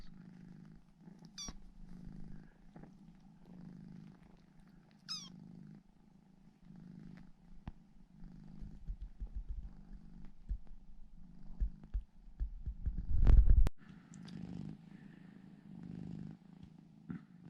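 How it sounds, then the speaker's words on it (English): A mother cat with three young kittens purrs steadily and close, a low rhythmic rumble with soft breathing pulses, broken by a brief rustle or bump near the end. "Here we have one happy cat and 3 rapidly growing kittens."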